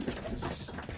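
Young pigeons in a loft give soft, low cooing calls, close and fairly quiet over a busy background of rustling.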